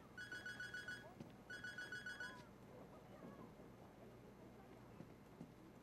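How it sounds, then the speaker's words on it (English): A faint electronic phone ringtone in the video game Sleeping Dogs: Definitive Edition trills twice in short bursts over a low background hum, then fades out. "Why is my phone ringing?"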